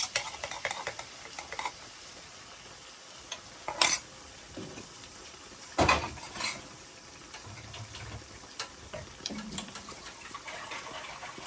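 Two large eggs stirred in a pan for lamb chop fried rice, with faint sizzling under scattered scrapes and clicks of a utensil against the pan, a few sharper knocks standing out, fairly quiet and close.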